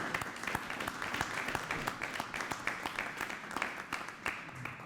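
Applause from attendees at a state aeronautics commission meeting honoring an award recipient, a room of people clapping steadily with distinct individual claps audible throughout, moderately loud and unbroken.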